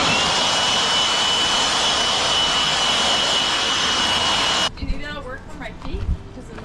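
An old blower on a Wyoming ranch roars steadily and loudly as a broadband whoosh with a faint high whine, then cuts off abruptly, leaving people talking nearby.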